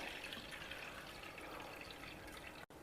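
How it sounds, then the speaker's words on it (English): Water is drained from millets that have soaked for eight hours, making a soft continuous splashing trickle at close range that runs steadily, with no voices, until a brief drop near the end. "After 8 hours, carefully drain out the water."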